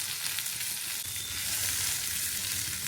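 Squeezed bitter gourd fries in oil in a kadhai, giving a steady, dense sizzling hiss, close and even in level, with no voices.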